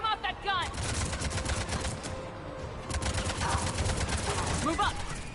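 A mounted gun fires in Mass Effect 3 through dense battle noise. Rapid bursts of shots rattle along under loud combat rumble, and a voice briefly calls out.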